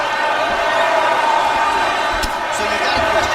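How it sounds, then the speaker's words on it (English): Crowd noise in the UFC 5 fighting video game, a steady arena roar that swells in reaction to a punch landing during the fourth round, with brief sharp hits near the end and commentary voices mixed in. "that punch elicited a reaction from the crowd"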